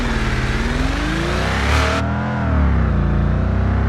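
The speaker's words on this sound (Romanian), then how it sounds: "Hai să dăm o tură cu mașina asta." A car in the BeamNG.drive driving simulator drives with its engine revving, a loud, steady mechanical drone rising and falling in pitch without pause, alone with no talk.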